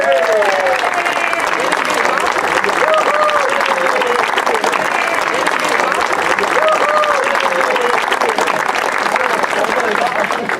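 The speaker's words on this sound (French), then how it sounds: "On va les applaudir très, très fort" Loud, dense applause from a large crowd at the opening ceremony of the 2017 Jeux de la MRC de Montcalm, steady for the whole stretch with cheers, whistles and voices mixed into the clapping.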